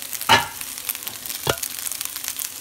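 Fried rice with mixed vegetables and egg sizzles in a home hibachi-style pan, a steady close hiss broken by two scraping stirs, with no voices.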